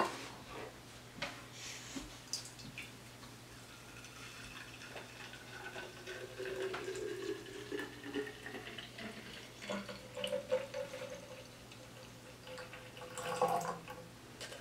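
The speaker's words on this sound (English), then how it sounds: "I'm going to hold my strainer in one hand and pour it with the other hand." Homemade hemp almond milk poured through a handheld strainer into mason jars, a soft, uneven liquid trickle and splash that swells and fades, close and fairly quiet, without speech.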